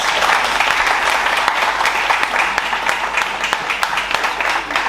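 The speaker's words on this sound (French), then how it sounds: "J'aimerais qu'on puisse les applaudir ce soir." A church audience in Nice applauds at an evening service with a visiting itinerant pastor from India: a dense, steady wash of many hands clapping, loud and sustained throughout with no break.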